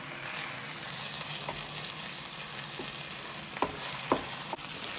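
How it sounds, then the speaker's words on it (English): Onions caramelising in a pan for a chicken makhani curry give off a steady, close sizzle, with a few soft scrapes and clicks from stirring near the end. "starting to get nicely caramelised now, the onions"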